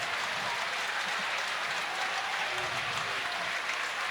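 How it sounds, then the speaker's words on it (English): Crowd in a high school gym at a Bondurant-Farrar vs Oskaloosa basketball game gives steady, close applause for departing seniors, a continuous wash of clapping throughout. "Oskaloosa's crowd also giving a little hand to all those seniors that just came out of the game"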